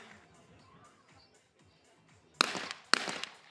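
Two sharp, loud shotgun blasts at skeet clay targets ring out about half a second apart after a quiet stretch on a breezy outdoor range at the women's skeet event of the 2023 ISSF World Championship in Baku.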